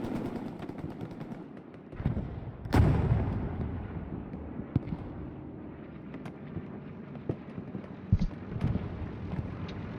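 Gunfire and distant explosions in the Hell Let Loose multiplayer shooter, set on the Carentan map, with one loud nearby blast and scattered sharp reports over a rumbling battlefield background.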